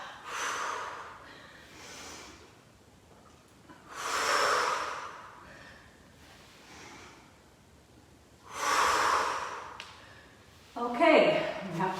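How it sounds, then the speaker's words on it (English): Deep audible breaths in and out during an intermediate Pilates mat exercise, long exhales and inhales spaced a few seconds apart, close to the microphone, with a brief spoken bit near the end. "Into 2-breath pattern, exhaling back. Inhaling forward."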